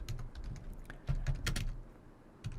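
Fingers type on a computer keyboard in short uneven bursts of close, crisp key clicks, with brief pauses between words and no one speaking.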